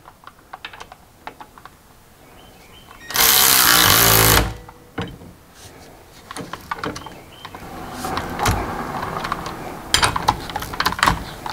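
Power tool tightening differential bolts on a Mercedes Sprinter van, a loud steady burst of buzzing impact-driver rattle lasting over a second, surrounded by smaller clicks and clatter of work.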